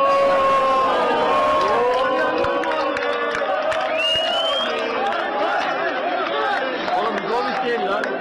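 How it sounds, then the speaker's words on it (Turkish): Galatasaray supporters at an airport chanting and applauding while waiting for a footballer, a loud, steady mass of crowd voices with overlapping shouts and chatter throughout. "I love you Gomis diye slogan attılar, alkışladılar"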